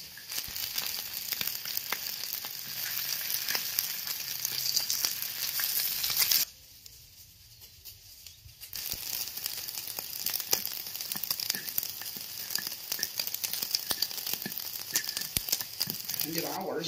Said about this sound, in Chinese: 黄包不但可以蒸来吃，而且还可以煎来吃，煎来吃更香